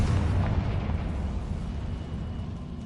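Confringo blasting spell in the Hogwarts Legacy video game, a loud rumbling explosion that booms at the start and slowly fades over about three seconds.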